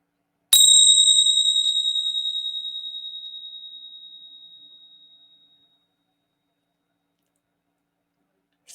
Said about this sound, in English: And in a moment, I'll ring my bell.